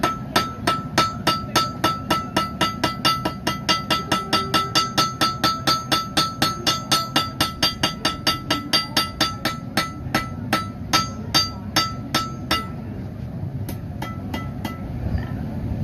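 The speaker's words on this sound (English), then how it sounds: "put it on the anvil at an angle, strike it at an angle with the hammer" A bladesmith's hammer rings against a blade on an anvil, striking at an angle in a fast, steady rhythm of bright clanging strikes that stops near the end.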